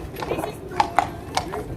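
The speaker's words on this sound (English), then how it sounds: "Here comes a traditional horse and trap." A few faint, hollow hoof clops of a horse pulling a traditional trap sound at an uneven trot on a hard street at an outdoor museum, under a quiet background.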